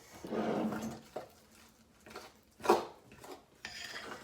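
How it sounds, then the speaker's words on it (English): A fork scrapes and clinks against a bowl while mixing tuna fudge, with a few quiet, close bursts of stirring and tapping separated by pauses. "I'm just mixing it with a fork"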